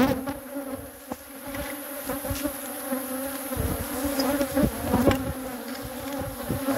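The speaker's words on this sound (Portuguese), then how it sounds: "Aqui está o enxame mãe" A mother swarm of honeybees hums in a dense, continuous drone close to the microphone, with individual bees buzzing past now and then.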